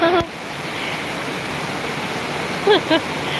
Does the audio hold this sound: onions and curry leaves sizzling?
no